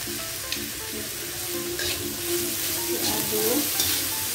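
Spring roll filling with salt and oyster sauce being stirred in a frying pan, a continuous close sizzle with soft scraping strokes of the spatula.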